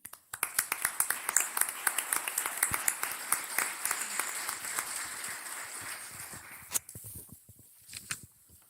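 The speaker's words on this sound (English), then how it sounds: "I would like to ask you to join me, giving me a round of applause to them" Audience at an international seminar applauding the speakers: a moderate round of clapping with distinct individual claps, fading out after several seconds into scattered last claps and room noise.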